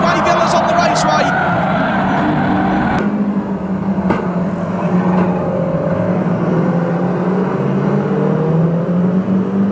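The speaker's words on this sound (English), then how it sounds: "So 16 cars still circulating for the remaining few laps of the European Championship." Saloon stock cars racing around a raceway at the European Championship final, a steady drone of engines through the whole stretch with a few sharp knocks, under continuous commentary.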